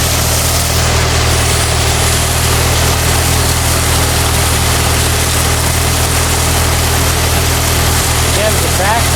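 An old Ford tractor engine idles steadily while driving a power washer, a continuous low, rumbling drone with broad hiss above it, loud and close throughout.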